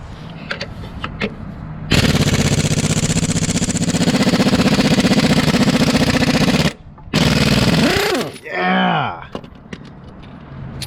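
An impact wrench rattles loudly in long bursts as it works on a bolt of a 1998 Toyota Camry 2.2 four-cylinder engine during alternator and timing belt removal. The bursts are broken by brief pauses and end with a falling whine.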